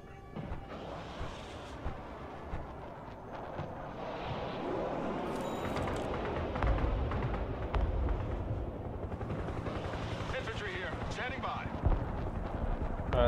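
Mobile artillery firing in the video game Broken Arrow, a dense rumble of booming blasts and gunfire that swells after the first few seconds and stays loud, with speech over it.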